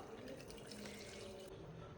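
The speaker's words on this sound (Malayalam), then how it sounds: "ഇനി വെള്ളം ഒഴിക്കാൻ പോവാ." Water is poured into squeezed lemon juice, a soft, faint trickling splash that runs steadily for a couple of seconds in a quiet room.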